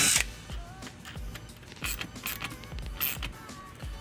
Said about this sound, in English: we'll tighten it using a 3/8 socket